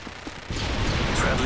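Gunfire in the video game Modern Warfare 3: a quiet opening, then from midway a loud, dense burst of shooting and crashing that keeps going to the end, with voices under it.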